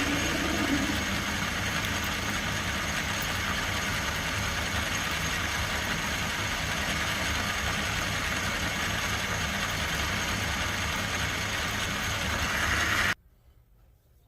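A lathe drills a hole out to 6.8 mm in a handmade motorcycle gas tank mount, giving a steady, loud machine drone with a broadband grinding hiss that runs unbroken before stopping abruptly near the end.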